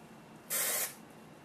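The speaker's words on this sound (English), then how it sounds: "I take the hairspray bottle, and I first just spray the hair as it is." A hairspray bottle lets out one short, close pressurized hiss onto hair, lasting about a third of a second against a quiet room.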